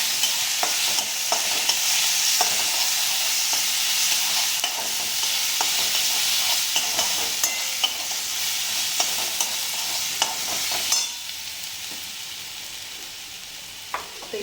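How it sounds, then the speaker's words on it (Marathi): Green chili, ginger and garlic paste sputters in hot oil for Kolhapuri batata vada, with a bright, steady sizzle and frequent spatula scrapes and taps close by. "मिरची आलं लसूणचं जे वाटण केलेलं आहे ते टाकून घेऊया ते तेलात एक मिनिटभर छान परतून घेऊया"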